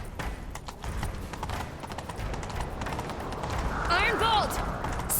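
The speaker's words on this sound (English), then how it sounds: "Grab a horse, we'll chase him down." Galloping horse hooves clatter in a steady rhythmic clip-clop in The Witcher 3, under continuous game ambience, with a voice briefly calling out near the end.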